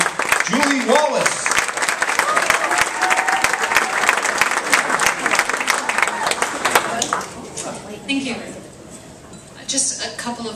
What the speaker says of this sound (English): how about a nice round of applause for Matron of Honor, Julie Wallace